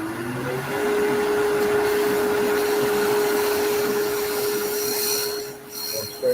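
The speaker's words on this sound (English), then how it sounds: "And scrape that bottom with that." A spindle gouge scrapes the bottom of a face-grain wooden bowl spinning on a lathe, giving a steady, loud rasping hiss with a constant motor hum underneath, easing off near the end.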